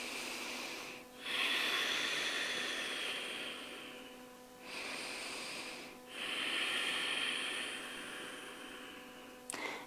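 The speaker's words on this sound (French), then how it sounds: "Encore deux grandes respirations." Deep, slow breaths during a hatha yoga session focused on hip mobility: three long airy inhales and exhales close to the microphone, rising and fading in a steady rhythm against a quiet background.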